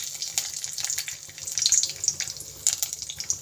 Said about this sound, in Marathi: आपली जिरा आणि मोहरी छान तेलावर परतून घेत आहोत